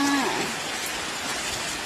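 Steady rain falls, a dense close hiss of drops hitting surfaces with no voices.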